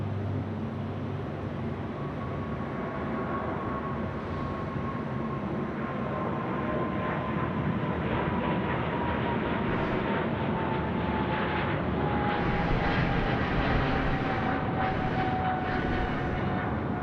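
An Etihad airliner departs Sydney Airport at night, a steady broadband jet roar with a slowly falling whine that holds loud throughout and swells slightly near the end.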